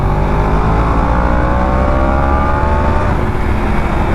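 A Yamaha R1 sport motorcycle accelerating at half throttle in third gear, its engine a loud, continuous rising whine with dense rumble close to the rider, holding steady for several seconds without speech.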